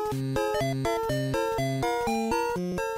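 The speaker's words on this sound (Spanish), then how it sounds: "El tema principal de Super Mario Land de la Game Boy" Chiptune music from the Super Mario Land main theme on the Game Boy: bright, buzzy square-wave notes in a bouncy, steady melody over a stepping bass line, played alone and clearly throughout.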